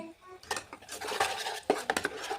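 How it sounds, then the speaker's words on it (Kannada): In a pan with turmeric and chili powder, spices are fried while a utensil scrapes and clatters against the metal in quick uneven strokes, loud and close, with little sizzle under it. "ಒಂದು ನಿಮಿಷ ಚೆನ್ನಾಗಿ ಫ್ರೈ ಮಾಡ್ತಾಯಿದ್ದೀನಿ"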